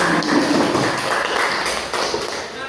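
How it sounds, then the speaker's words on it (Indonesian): A classroom audience claps for a student group after its presentation, a dense, steady patter of hands that stays fairly loud and close for a few seconds. "Beri aplaus dulu"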